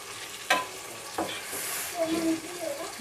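Spices and onion fry in a little oil for dal, a soft sizzle with a few stirring clatters of a spoon against the pot, heard close and fairly quiet.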